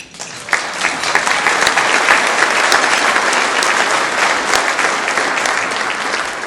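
Loud, sustained applause from a large crowd, dense and continuous, tapering slightly toward the end.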